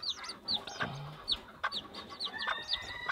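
Puerto Rican Kikiriki micro bantam chickens, including roosters, cluck in short, repeated calls with chirpy bird sounds throughout, fairly close, with no talking.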